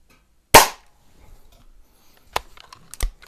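A vintage Benjamin Trail NP .177 break-barrel air pistol fires once with a sharp, close crack, followed by faint handling clicks and a couple of light knocks.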